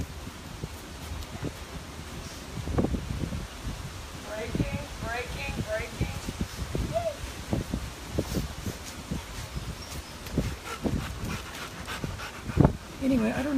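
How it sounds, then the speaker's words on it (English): A Rottweiler pants steadily at close range as it spins around its handler outdoors during e-collar pager training, with wind buffeting the microphone, leaves rustling, and someone talking over it. "the dog is literally spinning all the way around me."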